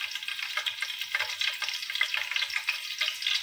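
Green chillies hit hot oil for an Andhra-style chicken curry, a fluttering, bubbling sizzle that pulses unevenly, close and moderately quiet, with no talking.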